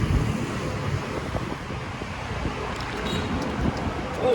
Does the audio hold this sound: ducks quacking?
no